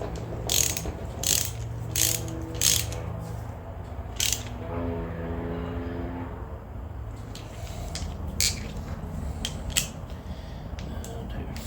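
A ratchet wrench clicks in quick bursts while tightening bolts on a Nissan TD42 engine during a home rebuild, with sharp close ratcheting rattles coming in clusters over steady background noise.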